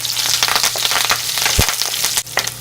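Ginger and garlic frying in hot oil with chillies and curry leaves for Erode Pallipalayam chicken, a crackling sizzle with a few sharp pops, one louder burst near the middle, no talk.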